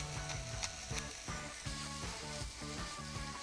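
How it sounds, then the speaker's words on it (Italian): Garlic and sprigs of marjoram sizzle in hot oil in a pan, a steady, close crackling fry with small irregular pops and no talking. "Faccio sfrigolare e quando il fondo sarà caldo aggiungo le zucchine."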